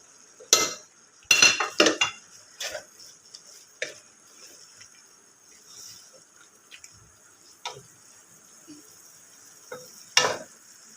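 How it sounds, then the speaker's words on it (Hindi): Lahori keema frying in a pan with salt, black pepper, chili flakes and coarse red chili, stirred with a spoon: scattered metallic clinks and scrapes over a faint, steady sizzle, with no talking. "दो से 3 मिनट हमने मसाले डाल के फ्राई करना है"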